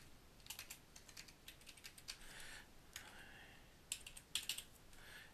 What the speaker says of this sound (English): I can type in a new client number and a new matter number.